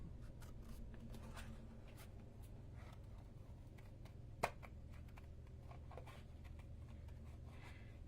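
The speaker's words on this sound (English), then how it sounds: "trimming around the tiger with my scissors" Scissors trim paper around a tiger image for a handmade card, making faint, scattered snips and light paper rustles over a steady low background hum, with one sharper click near the middle.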